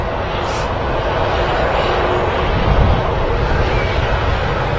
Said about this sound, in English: TUI Dreamliner just touching down there